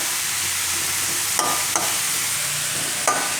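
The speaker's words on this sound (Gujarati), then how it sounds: "અને લીલી હળદર નાખી દેવું. થોડીક વાર હળદર આ રીતે તેલમાં ખાવા દેવું." Fresh green turmeric fries in hot oil with a bright, continuous sizzle, close and fairly loud, and a few brief crackles rise above it. No voices are heard.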